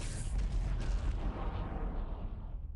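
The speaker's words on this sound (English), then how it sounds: "Is there an artillery piece somewhere which is shooting?" Distant booming artillery fire thuds in a Warhammer 40,000 real-time strategy battle pitting Tau and Imperial Guard against Imperial Guard, a muffled rumbling salvo that fades over a few seconds.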